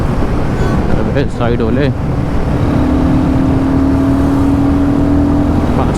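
Royal Enfield Guerrilla 450 motorcycle cruising in sixth gear around 5000 RPM near 100 km/h, a loud steady engine drone with wind rush throughout, a rider briefly talking over it.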